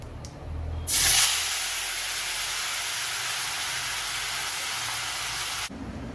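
Chopped tomatoes dropped into hot oil in a pan, with cumin, set off a sudden loud, steady sizzle and hiss that runs for several seconds before cutting off abruptly.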